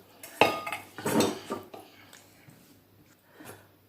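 Squeezed cucumber dropped by hand into a bowl while making raita, giving a few close, wet thumps and clinks of the dish in quick succession, then fading into quieter handling.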